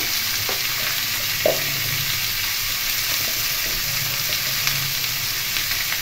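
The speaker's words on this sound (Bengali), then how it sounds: "আমি চাল কুমড়োর কুচোগুলো একটু ভালো করে ভেজে নিচ্ছি" Chopped ash gourd pieces frying in a pan give a continuous moderate sizzle, with a few soft clinks and stirring scrapes scattered through it.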